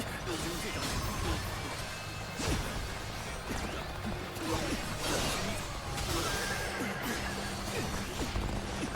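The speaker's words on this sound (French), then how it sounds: "putain de cheval à la con" A horse neighs amid a battle in Dynasty Warriors Origins, with hoofbeats, swishing blows and crashes in a continuous dense mix, while a voice talks over the action.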